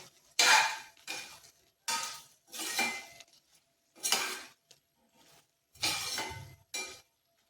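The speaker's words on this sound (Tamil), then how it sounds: "இதை 1 நிமிஷம் அப்படியே கிண்டி விட்டுக்குவோம்." Ground roasted masala stirred in a pan for Chettinad-style country chicken fry, a series of about six scraping, clinking strokes with short pauses between them, close and fairly loud, with no talking.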